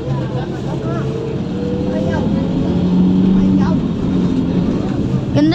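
A Golden Dragon XML6122J18 bus with a Yuchai engine drones and revs from inside, its humming tone rising and falling under people talking nearby.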